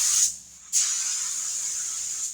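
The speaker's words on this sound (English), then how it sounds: "Hey, Chuck, do not spray that fender." Spray gun painting a Toyota Tacoma fender, a steady hissing spray burst that cuts off briefly, then resumes as a longer continuous hiss, close and fairly loud.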